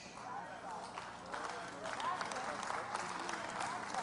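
A church congregation claps during a sermon, a faint, distant wash of applause rising slightly midway, heard through a low-level roomy recording with crowd noise.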